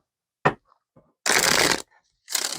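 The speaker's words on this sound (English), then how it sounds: "we will cut the cards" A deck of tarot cards is cut and handled in short crisp bursts: one quick flick, then two longer papery riffles separated by brief silences, close and clear.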